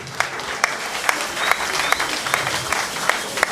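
Audience at a formal political membership ceremony applauds steadily, a dense, continuous wash of clapping with scattered louder claps, fairly close and without pauses.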